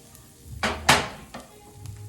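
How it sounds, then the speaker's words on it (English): Curry ingredients hitting a hot pan at home, two sharp bursts of sizzle followed by a softer third, close up over a quiet background hum, with no talking. "let that saute up for a second here"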